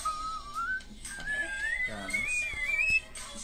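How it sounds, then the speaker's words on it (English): A singer's very high whistle-register vocal line glides and wavers over backing music, thin and piercing, sustained across the whole stretch with a brief lower vocal flourish in the middle. "Whistle notes just freak me out."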